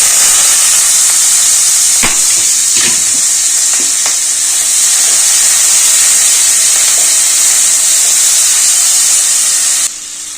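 Onions frying in hot tempering oil with asafoetida, a loud steady sizzle and hiss that stays close and unbroken throughout, with a few faint clinks of stirring, ending in a sudden drop as the pan is covered.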